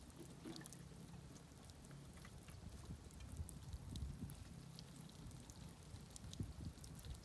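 Water pours steadily over a Starlink satellite dish, imitating heavy rain, as a dense, even wash of spattering and trickling that holds at a constant level from start to finish.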